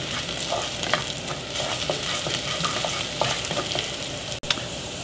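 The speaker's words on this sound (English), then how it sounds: "fry for 5 to 6 minutes. Get them a really nice flavor. Infuse the oil." Ingredients fry steadily in a pan of hot oil as part of a Chinese home-cooking meal, giving a dense, continuous sizzle with scattered light clicks and scrapes throughout, close and fairly loud, no voices.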